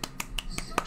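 Five sharp, close hand claps in a quick, fairly even rhythm, each a crisp snap-like burst standing alone.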